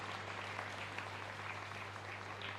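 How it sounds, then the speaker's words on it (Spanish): Church congregation at Mass in the San Blas parish, Asunción, applauding the godparents: a dense, steady wash of many hands clapping at moderate distance, even in level for the whole stretch, over a low hum. "Fuerte aplauso ya para los padrinos"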